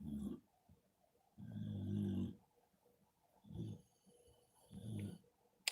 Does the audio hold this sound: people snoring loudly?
yes